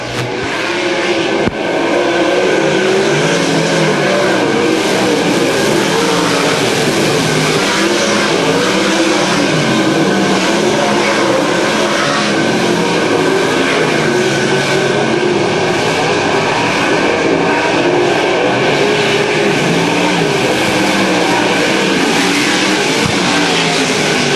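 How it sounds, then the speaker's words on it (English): Several race cars running close together down the back straightaway of a short track, lap 12, a loud continuous engine roar filling the whole stretch with no talk over it. "3 cars under a blanket for the top spot down the back straightaway."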